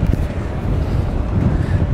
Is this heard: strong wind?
yes